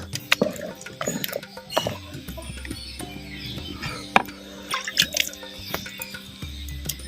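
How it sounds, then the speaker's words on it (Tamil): Water is sprinkled into a clay pot of village-style dry fish gravy as it cooks, giving irregular splashes, drips and brief sizzling bursts at close range with no talking. "தண்ணி எதுவும் பத்தலைன்னா இப்படி தொளிச்சுக்குங்க இப்படி தொளிச்சு வந்து சேர்த்துக்கலாம்"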